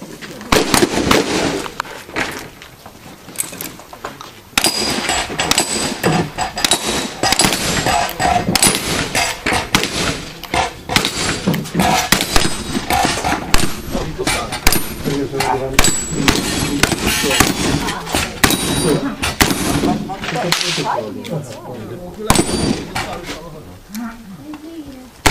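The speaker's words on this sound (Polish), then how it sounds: "Pierwszy dobieg Michał, już załadował strzelby. Pierwsze dwa strzały" Sharp, loud shotgun shots crack repeatedly at a Wild West action shooting duel, over a continuous noisy outdoor background, with voices talking and shouting throughout.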